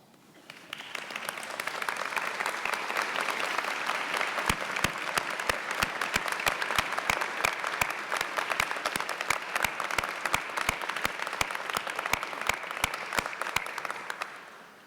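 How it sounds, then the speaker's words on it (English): At the 2017 UMD School of Public Policy commencement, a large audience stands and applauds families and loved ones, giving a sustained wash of clapping with sharp individual claps standing out, lasting about fifteen seconds. "Please stand and give your loved ones a round of applause."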